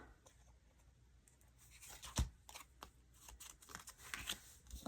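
Scissors snip through a paper craft card in a few short, close, quiet cuts with light paper rustling between them.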